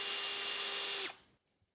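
A power drill whines steadily while boring a pilot hole into a broken EGR bolt on a 6.7 Powerstroke diesel with a ProMaxx kit, running loud and close for about a second before spinning down to silence.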